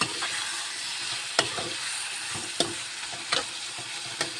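Mango pickle sizzles steadily in a pan while a spoon stirs it, giving several sharp scraping clicks close by; no voices.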